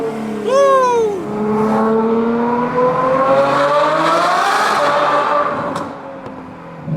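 A straight-piped Ferrari F12 engine blips and revs loudly nearby, its pitch jumping up and sweeping as it downshifts. The roar then sustains and fades away.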